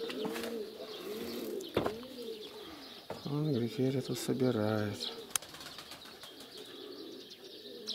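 Wild pigeons arrive and feed at a spot set with feed for domestic pigeons, giving close soft cooing calls with bursts of wing flapping and brief sharp clicks, while someone talks over them.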